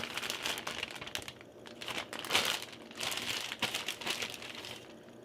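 A bag of frozen crinkle-cut fries is torn open and poured for a burger pot pie: close, crisp plastic crinkling comes in irregular bursts, with rustling surges as the fries shift, and no talking.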